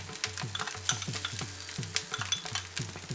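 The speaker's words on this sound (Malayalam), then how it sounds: "കടുക് പൊട്ടി തുടങ്ങി, ഞാൻ അതിലേക്ക് തേങ്ങ ഇട്ട് കൊടുക്കുക." Grated coconut hits mustard seeds popping in hot oil, making a busy sizzle with sharp crackles and a rhythmic scrape of a spoon stirring the pan, up close.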